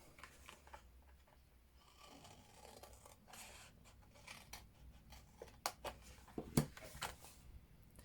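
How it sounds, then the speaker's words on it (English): Scissors cutting along the score lines of a paper box lid, a series of quiet snips and scrapes that grow sharper toward the end, with one louder crisp cut near the close, heard close up and without talk. "Just cut up these score lines just up to the first score line."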